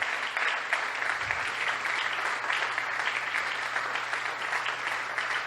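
A church congregation applauds and acclaims the Lord together, a steady, dense crowd of clapping that fills the room at an even level from start to finish.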